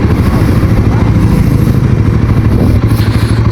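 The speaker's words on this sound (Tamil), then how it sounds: "இந்த பைக் எவ்ரி 1000 RPM எப்படி ரிவ் பண்ணுறது நான் உங்களுக்கு காட்டுறேன்." Royal Enfield Guerrilla 450 engine, a 2025 roadster motorcycle, running loud and close with a steady thumping mechanical drone and rising revs through the rpm range, no voices over it.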